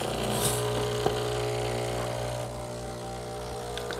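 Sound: Breville Barista Express espresso machine flushing water

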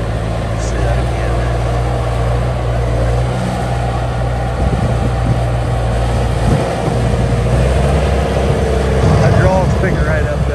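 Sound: 2004 Bobcat S250 skid loader engine running

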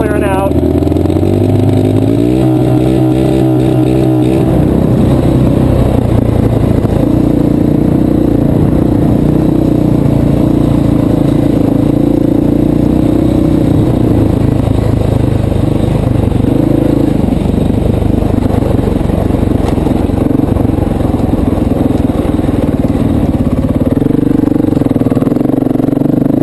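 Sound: flooded motorcycle engine revving at full throttle to clear

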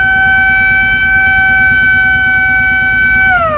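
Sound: siren like a horn near the border hills

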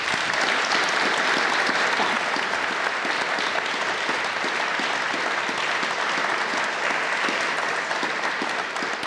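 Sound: audience applause

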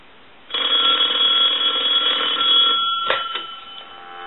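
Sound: Western Electric 5302 rotary telephone bell ringing

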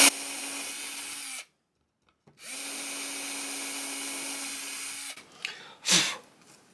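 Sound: drilling pilot holes during a guitar neck rebuild

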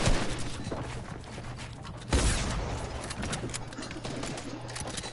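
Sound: shotgun shots at walls in the video game Fortnite

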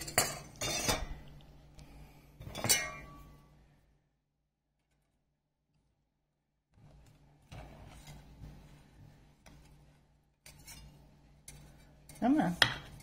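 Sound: spatula scraping blueberry buckle out of the pan

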